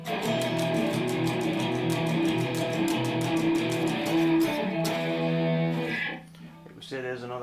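A distorted electric guitar plays the intro riff of a rock song, with fast chugging strums and sustained chords that drop away near the end, leaving a few quieter notes.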